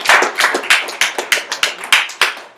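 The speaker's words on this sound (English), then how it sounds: "So let's give him all a big round of applause." A small real estate investing meetup audience claps to welcome a guest, a sparse run of about ten distinct, fairly close hand claps at a steady, slightly uneven rhythm.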